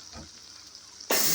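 Banana fritters (pazham pori) drop into hot oil in a small pan and burst into a loud, bright sizzle partway through, after a quieter stretch of faint background hiss.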